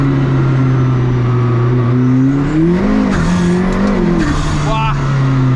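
A McLaren P1 GTR race car engine roars loud and close inside a tunnel with the window open, a sustained drone that rises and dips with throttle, while people in the car talk over it.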